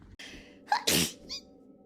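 Someone lets out a single sharp sneeze, a quick inhaled gasp followed by a loud explosive burst, close up and alone against a quiet room.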